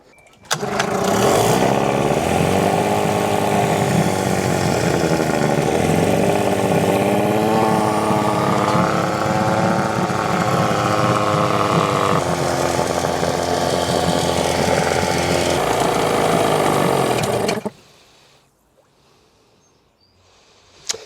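A small boat engine, started on choke, roars loudly and steadily for over fifteen seconds, its pitch wavering as it revs, then cuts out abruptly into near silence.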